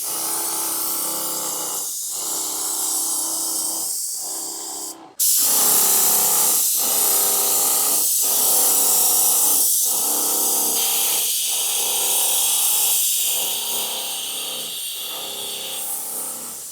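A Wagner Control 150 M airless paint sprayer hisses loudly and steadily as it sprays paint, with a brief cutoff near the start before resuming. Faint rhythmic pulses run beneath the spray.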